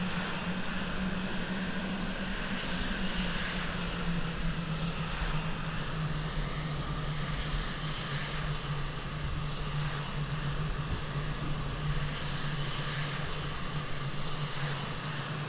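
A fighter jet engine spooling up for takeoff on runway 29 in the Falcon 4 Allied Force flight simulator, a steady, loud roar with a sustained low hum and airy hiss that continues unbroken, with no voices.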